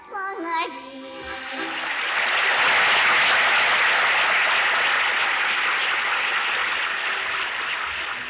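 A large audience applauding a 1983 Pyongyang student and children's art troupe performance in Japan, steady dense clapping that swells and holds, after a brief snatch of singing.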